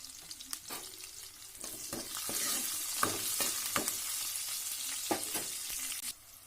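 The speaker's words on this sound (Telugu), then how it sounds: "తర్వాత ఆవాలు వేసా. నెక్స్ట్ ఎండుమిర్చి వేగిపోయింది." Mustard seeds and dried red chillies fry in hot oil with a soft continuous sizzle and crackle, punctuated by scattered spoon clinks and stirring scrapes in a home kitchen.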